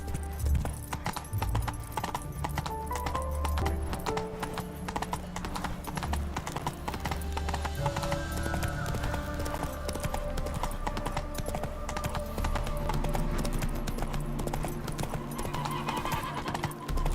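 Hooves of a horse galloping in The Witcher 3, rapid continuous clip-clop throughout, mixed with dense game music and an occasional whinny, no talking.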